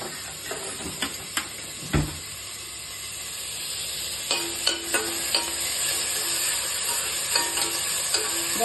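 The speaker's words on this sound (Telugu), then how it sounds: "ఆనియన్స్ కొంచెం ఫ్రై చేసేసి" Onions fry in an AMC pot for aavakaya biryani, a soft steady sizzle with scattered sharp clinks and scrapes of a spoon against the pot; no talking.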